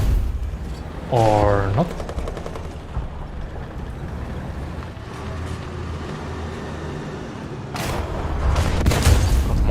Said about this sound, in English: Just, can I shoot down the tree? I can, I'm shooting.